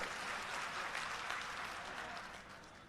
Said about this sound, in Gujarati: એમની માટે સૌપ્રથમ તો એકવાર જોરદાર તાળીઓ થઈ જાય